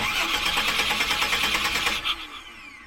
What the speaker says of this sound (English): Now I've got to go fire up the van and check the fuel pressure